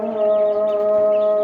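Chickens in an 800-square-foot poultry farm, with a pigeon loft beside it, make a loud, steady, droning mix of calls that holds evenly for the whole moment, with no talking.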